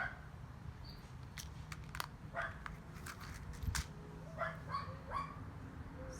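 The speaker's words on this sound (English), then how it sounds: "Sorry for the dog barking." A small dog yips and barks several times in scattered bursts from a distance, faint over quiet background noise.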